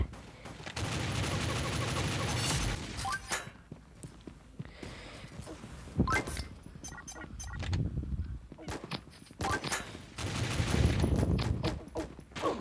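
Gunfire in the shooter game Pixel Gun 3D, loud bursts of rapid automatic shots in several clusters separated by short pauses, with a few single sharp shots between.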